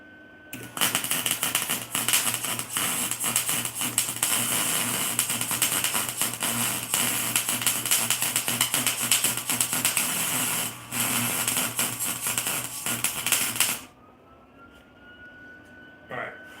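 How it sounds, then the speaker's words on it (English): Welding on a 1969 El Camino in a home garage: a loud, continuous crackling buzz of the welder runs steadily for about thirteen seconds with one brief break, then stops into quiet room tone. "let's get some light on the area that I'm going to weld"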